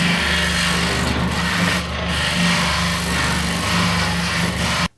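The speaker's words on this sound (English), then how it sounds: "I'll just take the finer side of my rasp and I'll just remove a little bit" The finer side of a rasp files steadily over a wooden guitar body for a Telecaster-style build, with continuous close rasping strokes and brief pauses between them.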